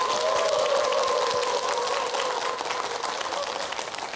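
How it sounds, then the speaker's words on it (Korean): An audience of Buddhist choir members and worshippers applauds a pianist being introduced, a dense wash of clapping that holds steady throughout, with a sustained musical tone running underneath. "커다란 박수 한번 주세요."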